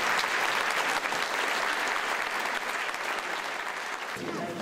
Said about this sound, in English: let's have a round of applause for all these that have supported Virginia